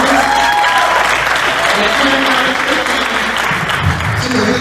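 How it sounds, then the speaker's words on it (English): Loud, sustained applause from a high school Hall of Fame awards audience for an inductee, a thick continuous roar of clapping with faint tonal whistles and murmurs mixed in. "Give him a round of applause"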